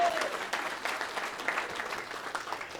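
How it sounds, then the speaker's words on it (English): A crowd applauding at a Samoan 21st birthday celebration, steady clapping and scattered cheers throughout, moderately loud and close. "Give me a round of applause."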